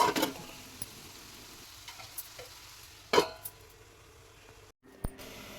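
Onions cook with a pinch of salt in a pan for egg and prawn curry, a quiet low sizzle broken by a few sharp spoon scrapes and clinks, with a brief silent gap near the end.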